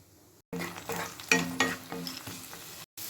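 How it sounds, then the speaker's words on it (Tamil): Stuffing sautéed with green chili and garam masala, a steady sizzle broken by utensil scrapes and clinks against the pan over a few seconds, with no speech. "நல்லா வதக்கிட்டு மூடி போட்டு விட்டுருங்க."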